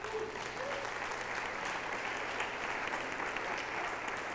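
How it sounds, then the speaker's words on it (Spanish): A church congregation gives a steady round of applause during a Spanish-language worship service, a dense, even clapping texture at moderate distance that holds throughout, with no speech on top. "¿Cuánto le damos un aplauso al Señor por eso?"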